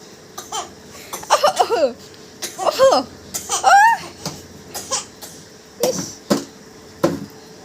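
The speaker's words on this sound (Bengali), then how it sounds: "কাশি নেই তবু কাশে" A small child coughs and gives throaty vocal noises in short, repeated bursts, close to the microphone, with a few sharp clicks between them.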